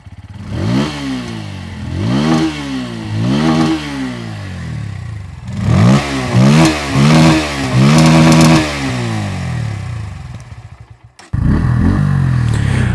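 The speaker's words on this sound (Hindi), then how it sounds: "आपको इसका एग्जॉस्ट नोट सुनाता हूँ" A Bajaj Pulsar P150 motorcycle's exhaust note, close up: three separate throttle blips, then a quick run of sharper revs, a drop back to idle, and finally a loud, steady engine run.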